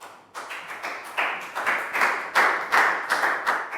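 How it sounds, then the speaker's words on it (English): A small classroom group claps for a pupil, a sparse uneven patter of individual hand claps close by, irregular and loose for several seconds with no talk. "Big round of applause for Pak Bung"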